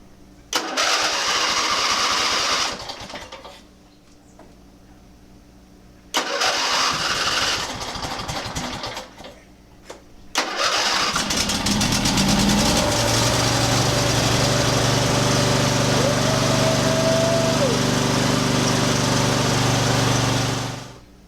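A refurbished, neglected riding mower's engine cranks in a couple of short bursts with pauses, then catches and runs steadily at a loud, close, constant drone.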